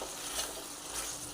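Guvar and potato curry being stirred in a pan, a steady, close sizzling hiss with soft scraping, continuous and fairly loud with no talking over it.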